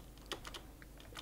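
Keys on a computer keyboard click faintly and irregularly as someone types orders into a game, about half a dozen light taps spread across a quiet moment.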